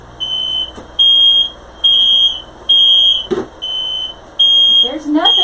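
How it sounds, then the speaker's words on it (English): A smoke alarm goes off indoors, sounding loud piercing beeps in a repeating on-off pattern, with brief noises and a voice reacting between the beeps. "so I don't know why the fire alarm's going off."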